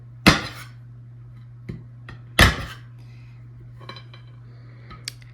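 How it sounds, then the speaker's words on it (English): Frozen Reese's peanut butter cups chopped into small pieces with a knife on a board: two loud sharp chops followed by a few lighter taps and clinks, close up over a steady low hum, with no talking. "I'm taking 4 of those Reese cups and I'm just going to chop them up into little pieces"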